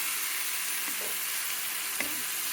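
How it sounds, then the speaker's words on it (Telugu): Ivy gourd, brinjal and onion pieces frying in a pan for a chutney, making a dense continuous sizzle that holds steady throughout, with a couple of faint knocks and scrapes underneath. "వేసుకొని కొంచెం బాగా వేగనిచ్చి ముక్కల్లో పచ్చివాసన అంతా పోవాలండి"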